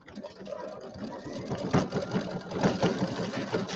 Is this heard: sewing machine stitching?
yes